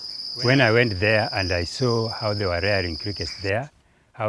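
Farmed crickets give a steady, high, continuous trill while someone talks loudly over it, and the trill drops away near the end.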